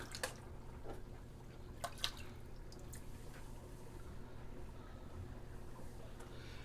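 A Simpsons Chubby 2 shaving brush drains and drips, a faint run of soft scattered water drips and trickles with a few sharper drops in a quiet room.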